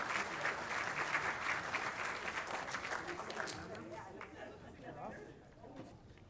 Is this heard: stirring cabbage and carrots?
no